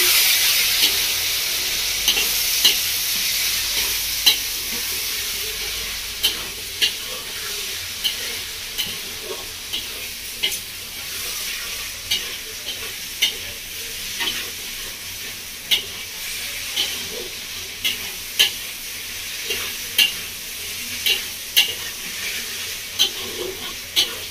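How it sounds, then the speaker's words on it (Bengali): Spices with coriander powder are stir-fried in a pan for a fish curry with ridge gourd, giving a steady loud sizzle punctuated by regular scraping strokes of a spatula across the pan. "মশলাটা দিয়ে আরও 2-3 মিনিট মতো ভালো করে কষিয়ে নেব"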